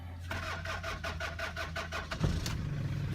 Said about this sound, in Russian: показываю, как работает мотор. Завожу.